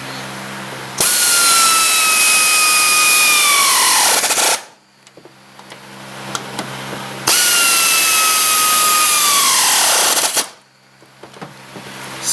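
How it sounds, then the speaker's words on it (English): Pneumatic air tool tightening bolts on a 2003-2007 Honda Accord upper control arm gives two loud, close bursts of several seconds each, whining then winding down sharply, with quiet pauses between. "I'll go ahead and tighten them down with the air tool"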